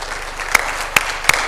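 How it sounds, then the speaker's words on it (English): Applause from a conference audience honouring dignitaries at a professional accountants' gathering in Bahrain: steady dense clapping throughout, with a few sharper individual claps standing out, moderately loud and without voices. "A huge round of applause,"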